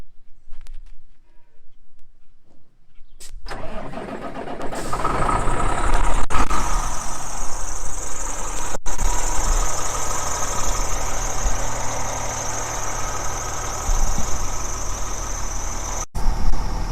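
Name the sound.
semi truck engine starting and idling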